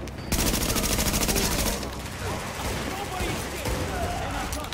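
Rapid bursts of gunfire in Tom Clancy's The Division, a loud sustained volley at the start easing into a steadier, denser battle mix that continues under a speaking voice.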